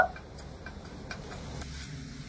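Potatoes frying in a pan for masala dosa filling: a soft, steady sizzle with light stirring ticks and scrapes, faint and close, no talking.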